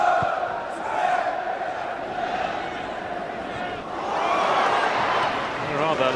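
Large football stadium crowd at a 1997-98 Chelsea versus Southampton match, a continuous loud roar of applause and voices that swells near the end, with a commentator speaking over it.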